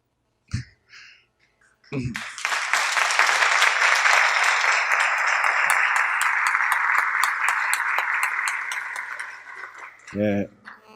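Sustained audience applause at a systemic-constellations lecture, rising suddenly after a couple of isolated sounds, holding steady and dense for about seven seconds, then fading as a voice speaks briefly at the end.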